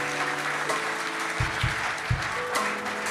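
Church congregation clapping and cheering to acclaim the Lord at a revival gathering in Geneva, steady dense applause with sustained tones underneath and a few sharp low thumps partway through.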